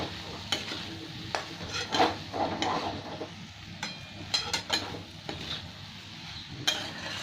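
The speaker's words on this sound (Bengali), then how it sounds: "এবার একসাথে নেড়ে দেবো।" Moong dal cooked with pointed gourd is stirred in a pot, the thick, nearly dry mixture giving repeated scraping clinks of a metal utensil against the pot over a faint sizzle, at a moderate, close level without speech.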